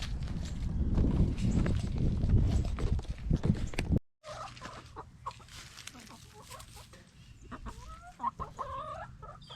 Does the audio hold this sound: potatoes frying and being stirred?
no